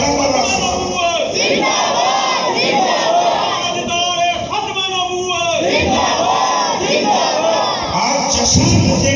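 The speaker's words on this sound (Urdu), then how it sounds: "اکٹھا ڈال کے نعرہ مارو تاجدار ختم نبوت، بلند آواز سے، بلند آواز سے" A large crowd shouts a religious slogan loudly in unison at a rally celebrating the finality of prophethood, the voices swelling in repeated bursts of chanting that fill the whole stretch.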